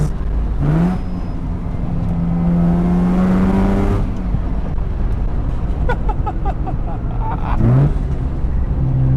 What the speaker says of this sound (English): it's not even that weird to hear a rotary out of an NA MX-5